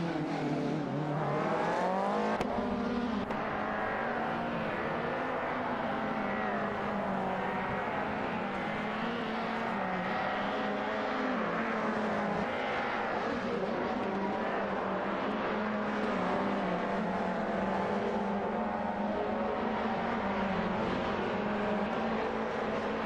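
Race cars in an AI-driven racing video game hum and whine continuously at moderate level, engine pitch rising and falling as the cars hold position, with no talk over them.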